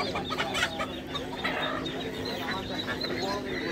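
Desi and sonali chickens cluck at a busy poultry market, repeated clucks and squawks mixed into crowd chatter and a steady low hum, with people talking nearby.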